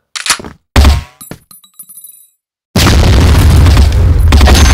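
A grenade blasts in a first-person shooter match, sharp close booms and thuds followed by a ringing tone, then a loud roaring explosion that fills the end.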